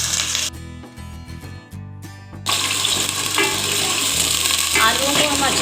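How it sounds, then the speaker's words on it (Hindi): Potatoes fry in oil seasoned with whole cumin seeds. A loud, dense sizzle bursts in partway through and holds steady to the end, following a quieter tonal opening. "हम इसमें आलू फ्राई कर लेंगे।"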